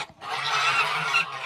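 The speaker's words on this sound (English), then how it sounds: "Hi, Buddy Goose" A goose at a farm animal sanctuary gives one long, loud, close honk lasting about a second, heard alone.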